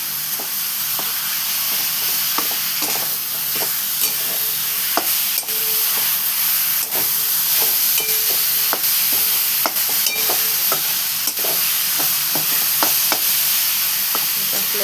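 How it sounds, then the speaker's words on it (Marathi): Grated ridge gourd with peanuts, green chillies and garlic sautés in a pan, giving a continuous loud sizzle broken by frequent sharp spatula scrapes and taps on the pan. No one speaks. "त्याच्यानंतर मी त्यांना असं परतून घेतलेलं आहे, सगळं मिक्स करून घेतलं."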